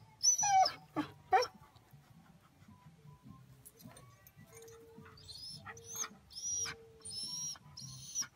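A dog whimpers and whines in a few high, wavering bursts, with quieter stretches and faint background noise between them.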